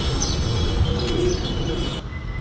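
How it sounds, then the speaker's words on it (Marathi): Bird calls chirp and coo over steady background noise, a few short tweets scattered through, moderately close. "आता हा पक्ष्याचा आवाज ना बहुतेक गावालाच ऐकायला भेटतो"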